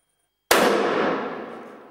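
A single sharp rifle shot cracks out of silence during a boar hunt, then a long rolling echo that slowly fades.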